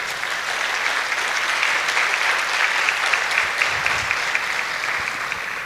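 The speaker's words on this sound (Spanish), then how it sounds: "Dale un aplauso al Señor." Steady congregational applause during a church service, an even wash of many hands clapping together without a break.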